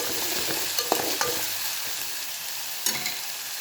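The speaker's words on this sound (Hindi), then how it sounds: "अच्छे से भुनें।" Urad dal with chili paste frying and being stirred in a pan, giving a steady loud sizzle with occasional scraping stir strokes and a spoon knock near the end.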